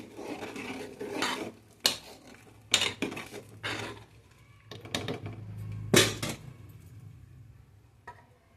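Pesarapappu tomato charu being stirred in a pot, a metal spoon clanking and scraping against the sides in irregular bursts, close and clear with quiet pauses between strokes.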